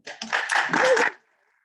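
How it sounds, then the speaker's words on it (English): Brief burst of applause and clapping from a conference audience for a speaker, about a second long and then cutting to silence, with voices mixed in. "if we can all just give a round of applause to Caro"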